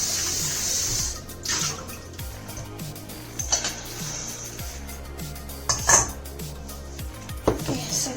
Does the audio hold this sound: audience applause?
no